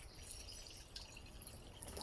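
Water is poured into a bowl for cleaning plant roots while potting at a community allotment, a faint steady trickle and splash lasting about two seconds with no talking.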